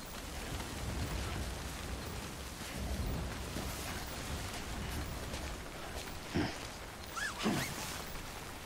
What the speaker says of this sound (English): the rain's still falling, so I'm not out of danger yet